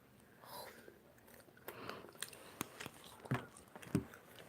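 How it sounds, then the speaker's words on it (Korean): Someone bites and chews convenience store food, likely crispy chicken, with close, soft crunching and several sharp bites, while faint voices murmur in the background. "짜증나니까 좀 뜯어 먹어볼게요"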